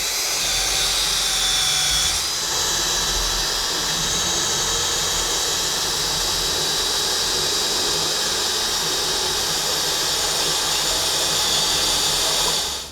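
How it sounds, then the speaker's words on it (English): A combi drill fitted with a decal removal wheel runs at high speed against stickers on the side of a VW Crafter van, a loud, continuous whirring grind that holds steady for over ten seconds. "It's used generally for getting decals or stickers off the side of vehicles, and it just fits into a normal sort of combi drill."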